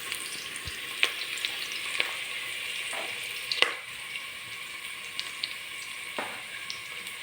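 Chicken pieces for tinolang manok fry in a pan, a steady close sizzle with occasional sharp pops and spatters and a few soft stirring scrapes, no talking.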